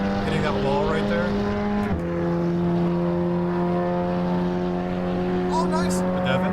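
A race car engine in Assetto Corsa Evo drones at steady high revs with a brief gear change, its sound reflecting off a trackside wall, while someone talks over it.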